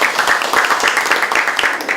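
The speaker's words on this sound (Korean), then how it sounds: "박수 한번 먼저 치고 시작합니다." Reporters clap at a Democratic Party policy coordination meeting, a brief, steady patter of hands filling the room for two seconds, fairly loud and close, with some voices mixed in.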